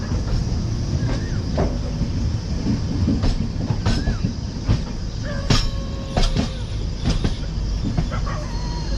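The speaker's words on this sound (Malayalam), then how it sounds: "അതും ട്രെയിനിലാണ് ഞാൻ പോണത്" A passenger train rolls steadily across India toward Delhi, passing into Maharashtra: a loud, continuous rumble with rhythmic clickety-clack from the wheels, interrupted by several short squeals and chirp-like tones.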